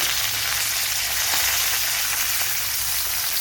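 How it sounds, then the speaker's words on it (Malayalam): Garlic cloves and curry leaves fry in hot oil, a steady, loud, close sizzle that hisses without a break from start to finish, with no voices over it. "ഇനി അതേ ഓയിലിൽ തന്നെ 6-7 അല്ലി വെളുത്തുള്ളി, കുറച്ച് കറി ലീവ്സ്"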